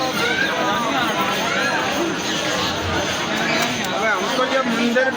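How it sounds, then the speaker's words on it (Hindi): A large crowd chatters at a busy outdoor gathering, many overlapping voices forming a dense, steady hubbub close by, with occasional clip-clop of hooves mixed in. "और कितनी सारी भीड़ पड़ी है, बहुत ज़्यादा ही भीड़ है।"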